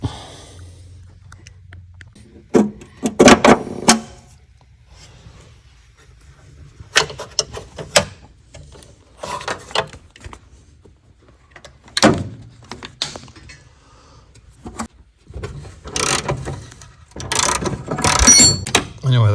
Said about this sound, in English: Take this bolt out. Make sure you put a wrench on top of here.